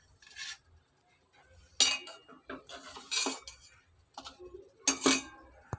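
A spoon stirs jaggery payasam (paramannam) in a pot, making quiet, intermittent metallic clinks and scrapes separated by short pauses.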